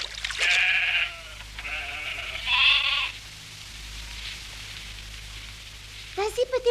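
A cartoon sheep bleats in a few loud, wavering cries, one after another, in a quiet outdoor spring scene, followed by softer background and another short bleat near the end.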